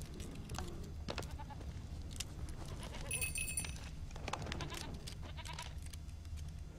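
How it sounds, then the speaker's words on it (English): A goat bleating in The Witcher 3 video game, a few faint cries from some distance among quiet ambient game sound, with no talk over it. "I'm hearing this goat, but I don't see it."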